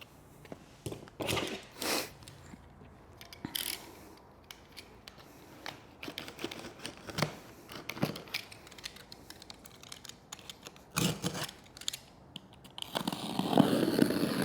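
Packaging of an RCF J11 speaker is handled and opened nearby: sporadic crinkles, rustles and sharp tearing or cutting scrapes in bursts, with quiet gaps between.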